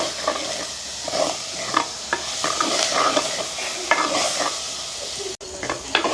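Tomatoes and curry leaves frying with onion in a village kitchen pan, a lively close sizzle punctuated by frequent scraping stirs and clinks of a spoon against the pan.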